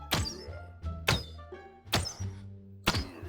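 Four crossbow shots in the video game Infestation Survivor Stories, each a sharp thunking release with a short twangy tail, spaced roughly a second apart, close and punchy with no talk between them.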